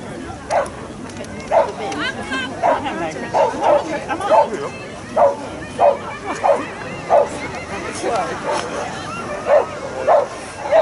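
Dogs bark and yip in short, loud, repeated bursts at a dog agility show at the Malvern Autumn Show, with crowd babble and talking beneath them.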